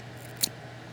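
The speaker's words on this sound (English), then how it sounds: "I'm going to grab my scissors" A pair of scissors snipping black yarn after crocheting a blanket row, a single short sharp snip close by over a steady low background hum, no speech.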